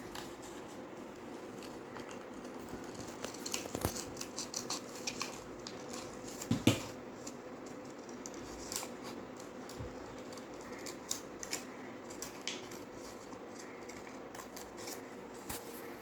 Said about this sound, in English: Now we will cut this trunk.